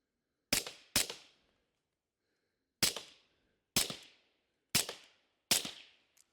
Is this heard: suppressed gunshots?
yes